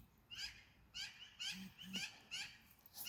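Birds call outdoors in a quiet setting, sounding as repeated short chirping phrases at a steady, fairly faint level, some sounding like soft hoots, with no voices.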